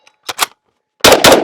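Steyr AUG rifle fired in two bursts: a short pair of sharp cracks, a pause, then a much louder run of rapid, closely spaced shots ending abruptly.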